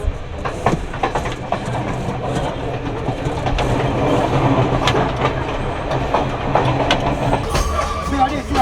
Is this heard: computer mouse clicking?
no